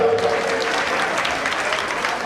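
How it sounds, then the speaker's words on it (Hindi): A seated audience at a Jain Panchkalyanak religious gathering claps for themselves, a dense, even patter of many hands filling the hall at full volume throughout. "अपने लिए ताली बजा लो एक बार।"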